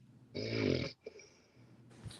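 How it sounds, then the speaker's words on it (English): A person snores, one long rasping inhale followed by a quieter, shorter breath, close and fairly loud. "Is somebody snoring?"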